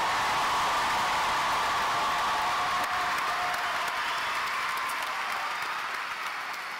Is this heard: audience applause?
yes